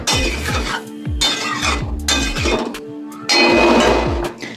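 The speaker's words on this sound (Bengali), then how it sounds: "আমি ঢাকা চাপা দিয়ে দিলাম" A metal lid clanks down onto a cooking pot of potato and prawn curry, with several close, loud clinks and scraping rattles ringing briefly between them.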